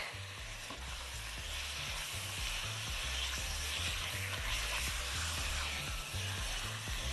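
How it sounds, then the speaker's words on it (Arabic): Food sizzles in a pan while being stirred during preparation of a meat stew seasoned with black pepper, a soft, steady frying hiss broken by repeated scraping stir strokes, fairly faint and without talk. "ونقلب"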